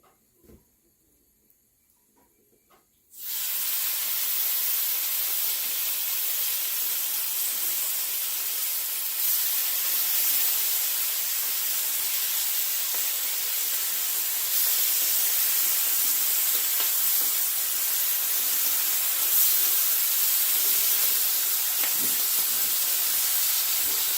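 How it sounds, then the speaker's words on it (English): Bacon strips sizzle on an oiled griddle at 350 degrees, a steady loud hiss that begins abruptly after a few quiet seconds and runs on without a break. "get our bacon laid down"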